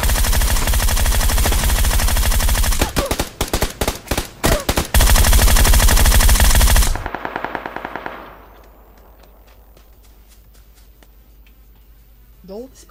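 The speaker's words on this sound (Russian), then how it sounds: "Они перед собой стреляют." Gunfire from the video game PUBG: rapid automatic bursts, then several spaced shots, then a long dense volley that cuts off abruptly, leaving faint clicks and quiet game ambience.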